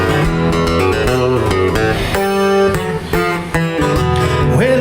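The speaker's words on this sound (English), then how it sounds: "you'll get to hear his music, which sounds like this." Recorded song by a songwriter guest playing at full, steady volume, dense band music with chords and melody throughout and no talking over it.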